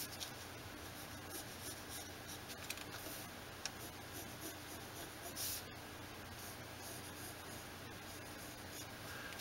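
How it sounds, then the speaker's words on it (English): A pencil scratches diagonal crease lines across origami paper for a box-pleating design, a steady soft scraping rasp that runs continuously under a faint hiss, close-up and quiet with no talking. "Go ahead and pencil in the diagonal creases for this feature."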